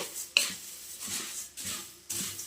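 Puffed rice being stirred while it fries in a pan for a spicy snack, heard as a few scraping, rustling sweeps at a steady, unhurried pace, close and fairly quiet.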